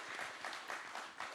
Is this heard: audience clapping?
yes